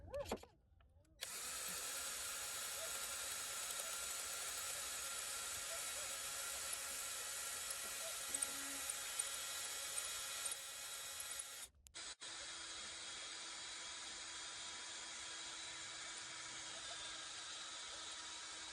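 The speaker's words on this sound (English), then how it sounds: "This is the biggest drill bit I can find" A power drill with a large bit whirs continuously at high speed enlarging holes, cutting out briefly near the end before starting again; steady, loud and close.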